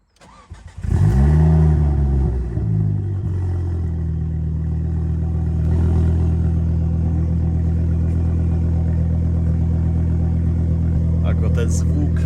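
A Ford Focus ST with a 2.5-litre five-cylinder engine of about 300 horsepower cranks and fires, flares briefly in a rev, then settles into a steady, deep idle that continues near and loud.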